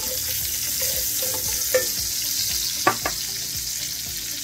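Onions frying in a pot while cooking Southern fried cabbage, giving a steady hissing sizzle with a few faint clinks and knocks near the middle.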